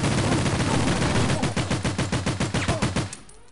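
A fully automatic weapon in 007 The World Is Not Enough, King's Ransom mission, fires one long continuous burst lasting about three seconds. The shots come as a dense, loud, rapid stream that turns into distinct pulses before stopping abruptly.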